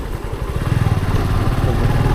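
A motorcycle loaded with luggage sets off before dawn, its engine a loud, close, steady throaty rumble with a quickening pulse as it pulls away.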